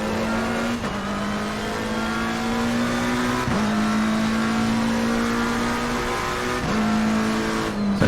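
Porsche race car in the racing game Assetto Corsa Competizione at Donington: a loud, continuous engine drone held at high revs, with three quick gear-shift dips, no speech.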